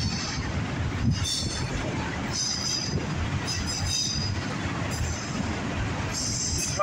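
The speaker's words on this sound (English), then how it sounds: "We got another train coming somewhere." A CSX/NS freight train of autoracks and mixed freight rumbles steadily in the distance, with low continuous rolling noise and occasional faint high metallic squeals from the wheels.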